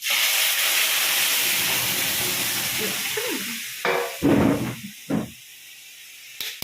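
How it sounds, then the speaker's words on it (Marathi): Garlic and cumin sizzle loudly in hot oil during tempering for a rustic village-style shrimp dish. The strong hiss fades partway through, then a few short stirring and scraping bursts follow, and no one speaks. "आणि लसूण फोडणी देणार आहे."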